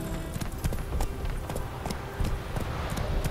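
Galloping horse hooves in The Witcher 3 video game drum in a quick, steady rhythm, close and continuous over low background game sound.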